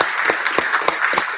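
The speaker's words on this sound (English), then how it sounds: "So how about we give Hugh a round of applause?" Steady applause from a pub audience at a Politics in the Pub talk, many hands clapping densely at close range with rhythmic surges, continuous throughout with no talk over it.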